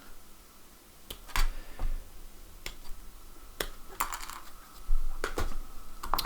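Sharp, close snips come as a plastic Necron Skorpekh Destroyer part is cut off its sprue, a scattered handful of crisp clicks over a quiet background.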